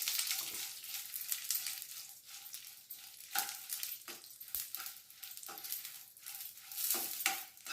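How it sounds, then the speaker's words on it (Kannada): Chillies frying in hot oil in a pan while being stirred, a soft steady sizzle broken by repeated scraping strokes of the spoon, close and fairly quiet with no talk. "ಈ ಮೆಣಸಿನ್ಕಾಯಿನ ಹಾಕ್ಕೊಂಡು ಹುರ್ಕೋಬೇಕು"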